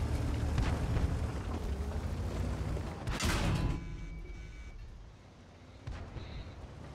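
Heavy 152 mm tank gun of a KV-2 firing in World of Tanks on the Himmelsdorf map, a broad loud boom with a dense rumbling tail that fades, followed by quieter battle noise.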